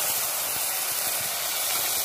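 Red lentils dropped into hot oil with lightly browned fried onion, a steady dense sizzle and hiss that runs continuously and fairly loud throughout.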